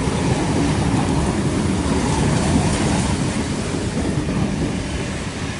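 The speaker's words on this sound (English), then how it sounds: "We have a Cronulla service passing platform number 4" A Sydney Trains passenger service rumbles steadily past platform 4 at Tempe station at close range, a loud continuous roar of wheels and rail noise that eases slightly toward the end.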